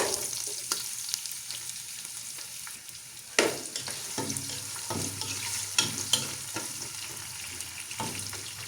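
Sliced large onions and cloves sizzle steadily in a hot oiled pan for chicken rice, with occasional stirring scrapes and clinks close by and no talking.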